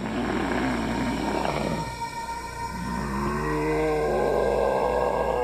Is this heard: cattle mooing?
no